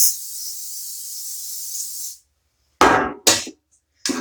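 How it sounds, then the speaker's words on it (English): Cooking spray hisses onto three cake pans for a three-tier cake, first one long steady spray and then three short bursts after a pause. "I'm going to spray all of my pans and set them aside"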